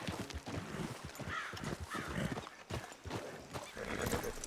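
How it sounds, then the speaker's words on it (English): A horse in the Red Dead Redemption video game whinnies and stamps its hooves in quick uneven clip-clops, fairly close, with crow-like caws and game ambience behind it. "Damn horse acting up on me, of all the times."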